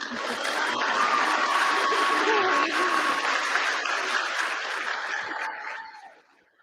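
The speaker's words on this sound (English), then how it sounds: "Can we get a round of applause for Dr. Rubio?" Graduation ceremony audience at a high school commencement breaks into sustained applause, a dense wash of clapping that holds steady before fading out near the end, with faint voices mixed in.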